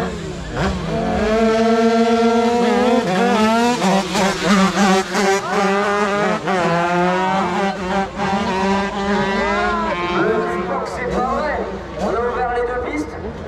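A Honda motorcycle engine roars and revs continuously at close range during a wheelie run, pitch climbing and dropping through gear changes, with a voice talking over it.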